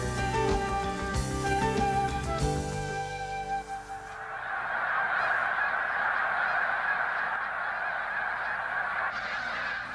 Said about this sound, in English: great flocks of snow geese arrive on Assateague Island